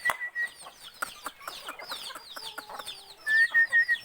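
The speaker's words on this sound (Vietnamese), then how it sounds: "Gà tre đây nhá, con dưới này là gà tre lai" Bantam chickens and bantam crosses in an upland farmyard cluck and chatter close by in quick, overlapping bursts, with a louder run of calls near the end and no talk.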